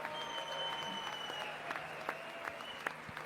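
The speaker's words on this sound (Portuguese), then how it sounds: "os republicanos permanecem de pé aplaudindo." Applause in the US Congress as Republicans stay on their feet clapping, a broad steady roar of many hands in a large chamber, with sharper individual claps standing out near the end.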